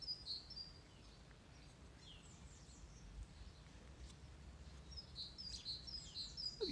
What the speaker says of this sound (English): I don't know, a blackbird or something up there.